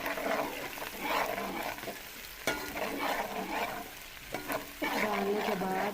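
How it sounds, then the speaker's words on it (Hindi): Garlic with onion fries in a pan for an aloo matar sabzi, a soft steady sizzle broken by stirring scrapes and clatters of the spoon. "इसे 1 मिनट के लिए भूनेंगे, जिसमें हमारा लहसुन प्याज अच्छे तरीके से भून जाए।"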